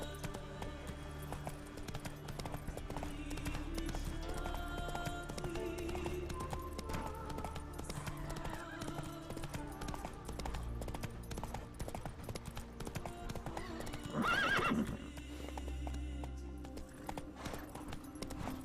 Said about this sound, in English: Run, Roach. Go, go.